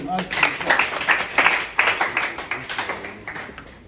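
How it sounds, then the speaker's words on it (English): A crowd claps for a participant at a district basic schools science and mathematics quiz final in Ekumfi, giving steady, moderately loud applause of many hands with voices mixed in. "So let's clap for him"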